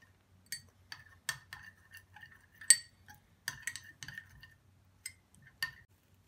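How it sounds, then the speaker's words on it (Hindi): A spoon mixes zinc oxide into a homemade sunscreen cream in a small bowl, tapping and clinking against the sides in sparse, irregular ticks, close and quiet. "जिंक ऑक्साइड डालेंगे हम बिल्कुल थोड़ा सा, हाफ टी स्पून के बराबर, और इसे मिक्स करते जाएंगे।"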